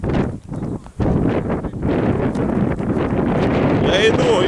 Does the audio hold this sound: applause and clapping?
no